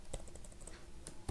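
A few quick, light keystrokes tap on a computer keyboard while data-entry code for an Excel user form is being written, close and fairly faint, with no talking.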